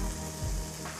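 Chopped chicken goes into a pan of sizzling masala for a Kerala-style chicken masala fry, with a loud, continuous close-up sizzle and a brief stirring clatter partway through.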